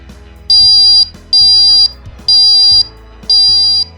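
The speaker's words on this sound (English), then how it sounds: "Changing the value so we can hear the alarm" Ranger radiation survey meter sounding its alarm: four loud, close, evenly spaced electronic beeps, each about half a second long, with short gaps between.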